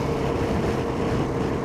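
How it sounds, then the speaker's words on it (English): Honda Silverwing scooter engine heard while riding, a steady low drone with wind rush throughout, continuous and fairly loud with no voices. "Oh, I do love riding this silverwing."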